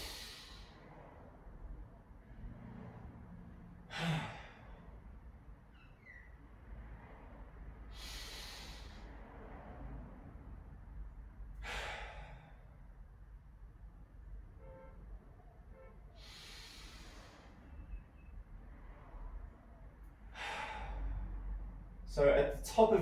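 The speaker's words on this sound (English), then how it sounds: "And now I'm going to take a nice deep breath." Slow, deep breaths drawn in and let out during a static stretch for the quads and shoulders, each one a soft rushing swell that recurs every few seconds, close and fairly quiet, with no speech over them.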